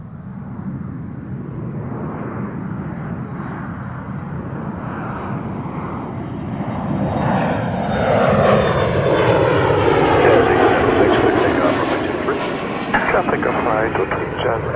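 A jet airliner departs Toronto Pearson Airport, its engine roar building steadily from a distance to a loud, sustained rumble with rising whine as it climbs away.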